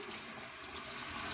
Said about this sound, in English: Hot water goes back on.